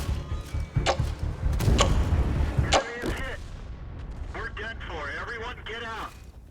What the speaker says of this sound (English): The enemy medium tank managed to spot us first, giving their SPG time to aim their shots.